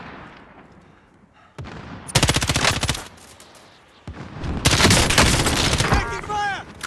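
Bursts of automatic gunfire in the Warzone video game, two long sustained volleys of rapid shots up close, separated by a quieter gap, with a whistling tone near the end.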